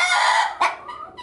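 A hen clucks and cackles loudly up close, a rapid run of harsh calls followed by a sharper squawk and softer clucks.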